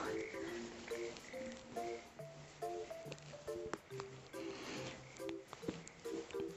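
Frogs croak close by near rice fields ready for planting, a dense chorus of repeated pulsing calls overlapping in rhythmic bursts over a soft ambient background, with no talk.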